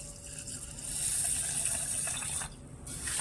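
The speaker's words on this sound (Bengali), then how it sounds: "আর দিয়ে দেবো এক কাপ জল" A cup of water is poured into a pot holding sugar and cardamom while making a flour-and-sugar syrup for tulumba sweets, a steady gushing flow heard alone for a few seconds.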